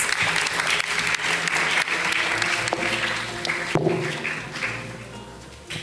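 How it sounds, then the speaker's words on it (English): Audience applause at a student leaders' panel discussion, steady dense clapping from a crowd filling the room for about six seconds, with a few sharper claps standing out near the end. "Let's give him a round of applause."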